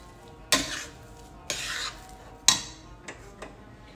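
Vada pav potato filling stirred in a pan, with several distinct scraping clanks of the spoon against the metal at uneven intervals, close and fairly quiet with no talk.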